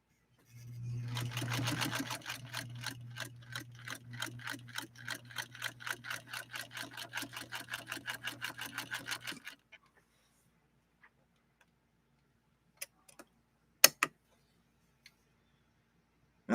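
A White Rotary sewing machine stitching through leather, a steady rapid mechanical clatter with a low motor hum for several seconds, then stopping abruptly, followed by silence and a few isolated clicks.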